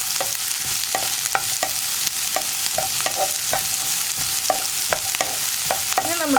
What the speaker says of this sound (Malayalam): ഇനി നമുക്കിതിലേക്ക് നമ്മൾ കട്ട് ചെയ്ത് വെച്ചിരിക്കുന്ന സവോളയും പച്ചമുളകും ചേർത്ത് കൊടുക്കാം.